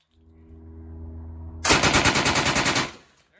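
At an outdoor range, a machine gun fires one rapid burst of about a dozen closely spaced, loud, sharp shots after a low engine-like hum, then stops abruptly.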